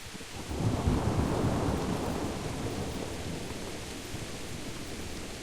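Rain and thunder in the video game Kingdom Come: a deep rolling thunder rumble swells early and slowly fades beneath a steady wash of rainfall, with no talking.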